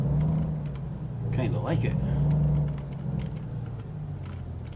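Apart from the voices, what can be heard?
truck engine rumbling in video game American Truck Simulator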